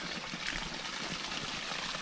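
A natural stream near Gendagala village trickles and splashes steadily at close range, an unbroken wash of running water with no voices over it.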